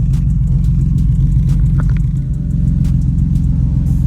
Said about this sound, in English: like I just turned it on, so I'll let you hear it.